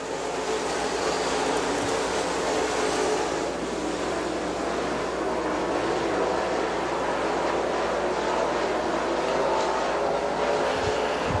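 Crate Late Model race cars at Dixie Speedway roar around the track together, a continuous loud engine drone with no break and no one speaking.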